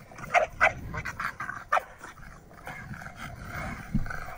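A big dog barks in loud, close bursts, several sharp barks in quick succession, mixed with yips and whimpering over a noisy, scuffling background.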